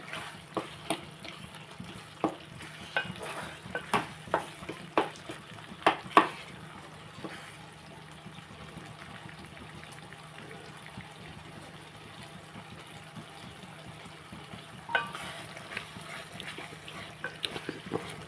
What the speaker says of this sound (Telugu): ఇదిగోండి కూర అంతా ఉడికిపోతుంది